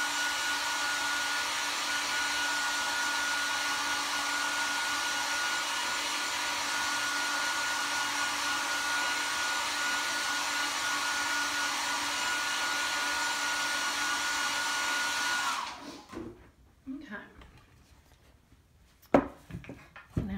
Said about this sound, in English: I'm going to hit that with a hairdryer real quick.